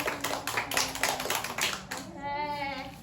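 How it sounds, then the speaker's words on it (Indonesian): Classroom applause from a group of children during a microteaching lesson, a brisk burst of claps lasting about two seconds, with a teacher's voice speaking over the tail end. "Kasih tepuk tangan buat Azam."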